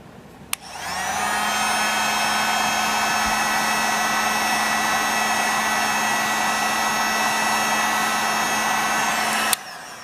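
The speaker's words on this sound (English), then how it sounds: "I'm going to heat gun it" A heat gun blows with a steady, loud whooshing drone as it melts tallow on a candle top, switching on early and cutting off abruptly near the end.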